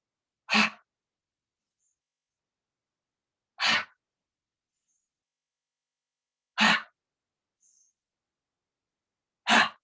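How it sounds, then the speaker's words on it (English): Four forceful "ha" exhales during yoga practice, evenly spaced about three seconds apart, each a short breathy burst, close and clear against near silence. "So you're adding in that strong ha breath."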